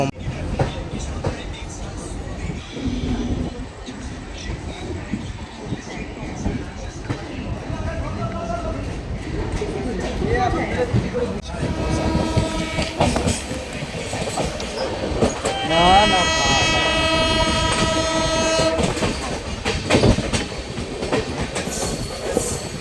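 The 18409 Shalimar to Puri Jagannath Express pulling into platform 1 at Santragachi station, rumbling and clattering over the rails with squealing wheels growing louder, while people talk nearby.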